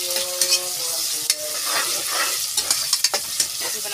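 Ginger paste and tomatoes being sautéed in a pan, with a sizzle broken by repeated scrapes and clinks of a spatula stirring at close range, and no one speaking.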